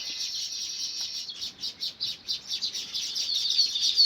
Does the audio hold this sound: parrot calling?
yes